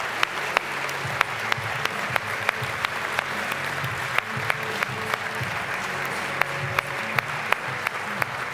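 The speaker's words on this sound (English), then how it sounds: "a big round of applause for the team principal and skipper, Sir Ben Ainslie." A crowd at the America's Cup sailing event claps steadily and continuously, a dense wash of applause with occasional sharper individual claps standing out.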